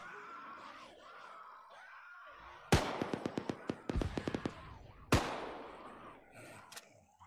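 Gunfire in ARMA 3 comes as a rapid burst of about a dozen sharp shots, then a single loud shot, over faint background noise.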